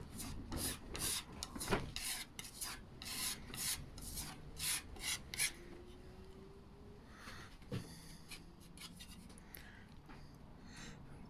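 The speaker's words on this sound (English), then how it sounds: "I'm just going to rub some normal filler in." Wood filler being rubbed by hand into a hospital bed side skirt, a series of faint rhythmic scuffing rubs close by, then quieter sporadic scraping and handling noises.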